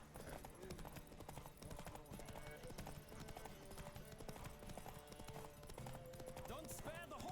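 Horse hooves gallop at racing speed during a horse race in The Witcher 3: Wild Hunt, a rapid, continuous clip-clop rhythm, close and steady throughout, with faint other game sounds behind.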